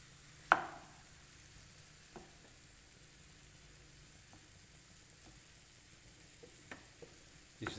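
Corned beef hash fries in a pan in a Thailand home kitchen with a soft, steady low sizzle, broken by a few clacks of a utensil stirring and scraping, quiet and with no talking.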